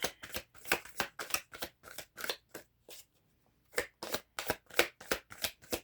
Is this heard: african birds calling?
no